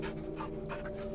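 A male dog pants rapidly and steadily at close range, quick breathy huffs repeating throughout without pause, with no voices over it.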